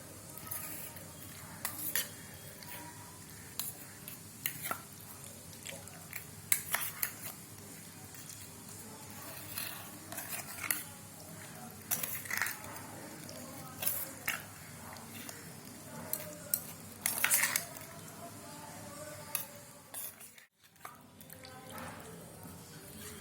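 Chicken pieces are stirred and mixed with turmeric in a pot, a steady run of wet squishing and scraping strokes with faint sizzling and occasional clinks, close and fairly quiet.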